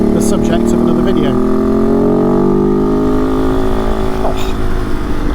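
Kove 450 Rally motorcycle's loud exhaust revving up and holding high, a rising engine pitch that stays strong and close throughout.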